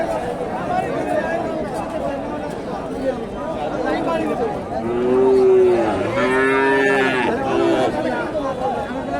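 Holstein Friesian cattle low with several drawn-out moos at Hasokhali cattle market in Bogura, over a busy crowd murmuring and chattering in the background.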